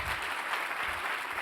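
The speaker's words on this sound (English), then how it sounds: "Please give a round of applause to them." Audience applause from a room of participants at a companion animal nutrition summit closing session, a steady dense clapping wash sustained throughout without a clear break.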